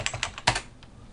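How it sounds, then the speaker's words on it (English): A few quick keystrokes on a computer keyboard enter a password for an SSH server login, close and crisp, with one louder key press near the middle. "Now type in your password."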